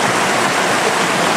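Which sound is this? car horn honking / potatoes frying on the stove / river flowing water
river flowing water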